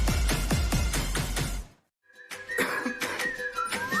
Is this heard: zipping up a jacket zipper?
no